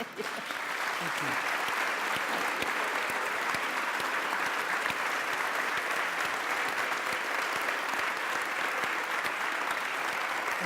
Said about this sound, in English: And so I invite you to applaud these two.